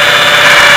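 A power drill bores holes into a bird trap cage, its steady motor whine loud and close with a bright, sustained high-pitched tone and no pauses.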